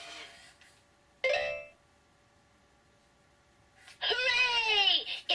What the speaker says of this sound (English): Just then, the doorbell rang again